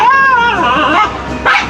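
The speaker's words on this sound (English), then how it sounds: "That's the big doggy." A big dog at a marina and restaurant in Key West gives a close, loud, whining vocal sound with a sharp yip near the end, under no overlapping talk.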